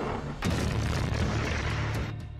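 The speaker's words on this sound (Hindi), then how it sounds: "चौथी मिसाइल, और फिर निकली पांचवी मिसाइल" A missile launch bursts in as a deep, loud broadband roar after a brief quieter moment and rumbles on steadily, close and unbroken, with no voices.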